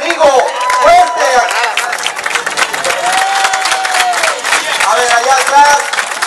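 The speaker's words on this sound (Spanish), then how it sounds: "Un aplauso fuerte" A crowd at an office inauguration in Puerto Vallarta applauds loudly and steadily, with cheering mixed in, while someone shouts over the noise through a microphone.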